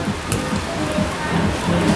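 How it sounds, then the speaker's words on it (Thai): Steady rain falls across an outdoor football pitch during a seven-a-side Sunday match, a soft continuous hiss with faint low thuds, no voices over it. "สนามลื่นวันนี้มีฝน"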